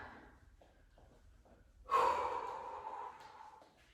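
During an ab workout exercise, a person takes a sharp, loud breath out halfway through that trails off slowly, after a stretch of quiet, soft breaths close to the mic.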